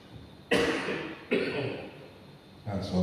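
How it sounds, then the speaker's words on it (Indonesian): A person coughs three times in a row, each cough a sharp burst with a short rough tail, close and loud in a quiet room, with a cold drink the stated cause. "batuk karena minum es"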